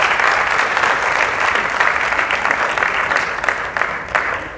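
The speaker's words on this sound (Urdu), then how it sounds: "بہت سی تالیاں" A crowd at an Urdu poetry gathering claps loudly and continuously, a dense, even wash of many hands sustained throughout and thinning slightly toward the end.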